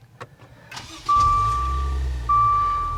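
A 2020 Maserati Levante engine cranks and catches with a sharp surge, then settles into a steady low idle as a high electronic beep sounds twice.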